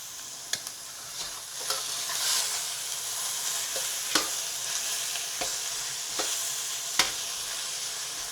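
Kung Pao chicken flipped and stir-fried in a pan, a continuous sizzle broken by several sharp scraping and clacking utensil strikes against the pan at irregular intervals.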